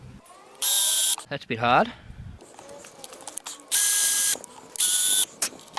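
A power drill countersinks a screw hole in wood for a wedding wishing well, with three loud, close whirring bursts of about half a second to a second each, separated by a squeaky ratcheting sound and a person speaking briefly.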